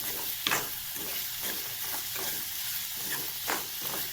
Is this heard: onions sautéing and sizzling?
yes